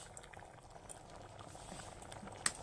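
Eggs go into a hot kadai on a low flame, where a steady, quiet bubbling simmer runs throughout, with one brief sharp tap near the end.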